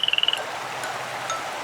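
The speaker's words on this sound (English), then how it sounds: "There lived 2 frogs in a pond who were siblings." A frog in a farm pond gives a quick run of about six rapid, raspy croaks at the start, then only quiet ambient pond noise remains.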